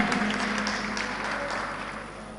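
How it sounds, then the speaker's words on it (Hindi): Applause from a devotional gathering's audience during a Jain sermon, a steady wash of many hands clapping that fades slightly toward the end, no voices on top. "एक बार इनके लिए भी तालियां बजाएं"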